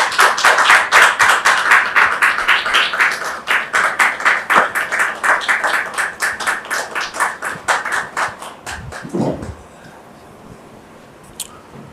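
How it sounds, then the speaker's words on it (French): A studio audience on a French talk show claps loudly and steadily for about nine seconds, then the applause fades out and a brief murmur follows. "Merci de les recevoir sous vos applaudissements."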